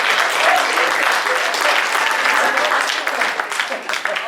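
Banquet audience at a chamber of commerce recognition dinner applauding steadily, a dense, loud wash of clapping that holds for several seconds before thinning slightly toward the end.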